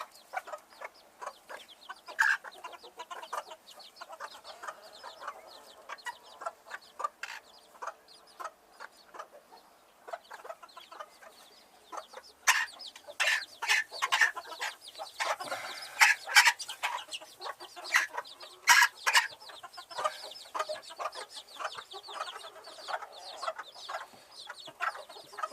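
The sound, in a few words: chicks in a box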